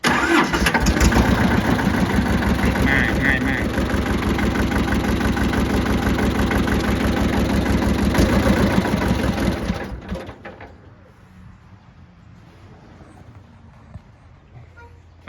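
A small tractor engine, an Inomoto E18D in a 4WD tractor, chugs steadily at a fast idle, loud and close, then cuts off abruptly, leaving quiet background noise; a voice speaks briefly.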